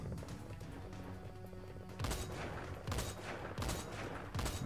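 Gunfire in the online game Metal Gear Solid Online, a steady stream of shots and blasts with several sharper bursts toward the end, fairly quiet throughout.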